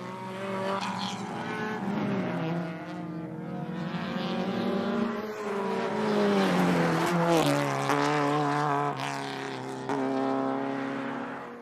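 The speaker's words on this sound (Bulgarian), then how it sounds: "В серия 2 се състезават автомобили с кубатура на двигателите от 1600 до 2000 кубически сантиметра." Race cars with 1600 to 2000 cc engines racing on the Dracon Track, engines roaring loud and close with rising and falling whines as cars pass, continuous throughout.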